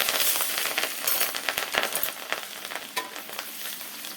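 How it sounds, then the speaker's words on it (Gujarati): Mustard seeds, cumin, turmeric and chili dropped into hot oil sizzle and crackle loudly and steadily, with sharp pops scattered throughout and no voices. "તેલ આવી ગયું છે, આપણે રાઈ નાખી દઈએ, જીરું નાખી દઈએ, હળદર નાખી દઈએ, મરચું નાખી દઈએ"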